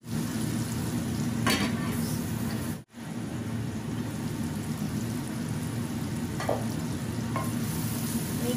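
Onions sizzle steadily in a hot pan, a dense continuous frying hiss with a few scrapes of stirring, close and alone apart from a brief dropout near the start.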